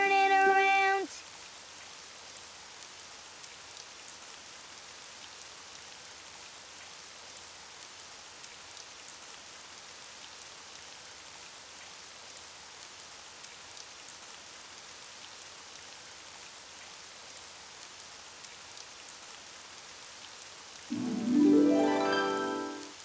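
Steady rain falls outside in a children's cartoon scene, a soft even patter that runs throughout, with brief musical tones at the start and end.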